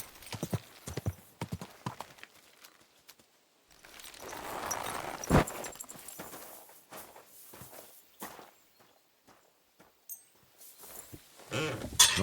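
Horse hooves clip-clop at a walking pace in the video game Kingdom Come 2, an uneven run of close hoof knocks, with a soft snort or breathy whinny partway through.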